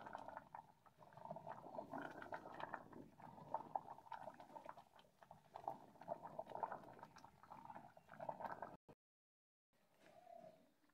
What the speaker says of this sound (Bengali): খিচুড়িটা আমার বলক চলে এসেছে